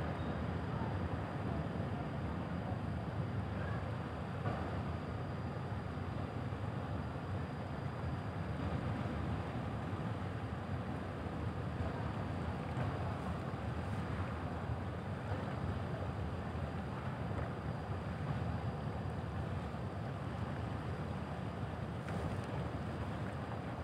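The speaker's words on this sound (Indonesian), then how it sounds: "kapal Klut meninggalkan Pelabuhan Kijang menuju Pelabuhan Batu Ampar" The ship Kelud departs Kijang harbour for Batu Ampar port in Batam, a faint, steady wash of wind, water and distant engine drone lasting throughout, with no clear voices.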